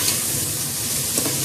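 Chopped vegetables for vegetable biriyani sizzle and fry in a pan as they are stirred, a steady close hiss with light scraping and no voices.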